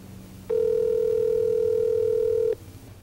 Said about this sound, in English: the terminating office sends a separate audible ring to my line